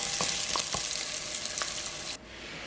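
Garlic sizzles steadily in olive oil in a pot over low heat, a close hiss with scattered small pops. The sizzle drops off sharply near the end, leaving a softer, duller frying hush.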